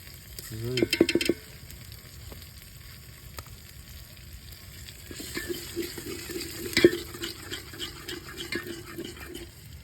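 Chili powder going into sizzling masala for spicy bhungla potatoes, a soft hiss under scattered spoon clinks and a brief scraping burst early on, then a louder bout of stirring and frying later, with faint voices in the background.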